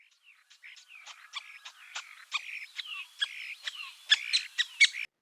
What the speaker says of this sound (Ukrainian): Діти, це шпак. Ось він співає так.